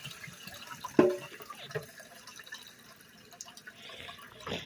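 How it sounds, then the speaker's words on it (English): Water is poured into a pot over rinsed white rice in a home kitchen, a steady splashing pour with a sharp clink near the start, at moderate loudness. "Put a generous amount of water in the pot."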